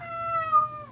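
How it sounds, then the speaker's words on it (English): A single drawn-out cat meow, fairly quiet and steady, with a slight rise in the middle before trailing off. "I had my cat in here. Meow."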